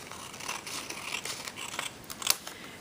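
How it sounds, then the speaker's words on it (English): Scissors snip through a sheet of origami paper in a few quick, crisp cuts, close and alone against a quiet background. "now I'm going to take my scissors and cut this piece off."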